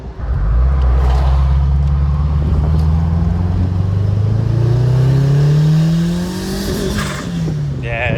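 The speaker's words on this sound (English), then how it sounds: "I'll start lower and hit it and see if it gets the boost because it's hitting like right at VTEC point." A turbocharged, modified Honda S2000 engine revs hard near the VTEC point, its pitch climbing in long sweeps and falling back, loud and steady with a rough, cutting edge, then easing off near the end.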